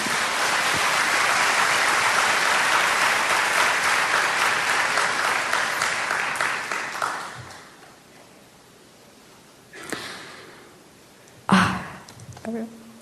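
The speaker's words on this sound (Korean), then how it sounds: "박수 치실만 하죠" Audience applause at a motivational talk in Toronto, a loud, dense round of clapping that fades out after about seven seconds, followed by scattered murmurs and brief voices.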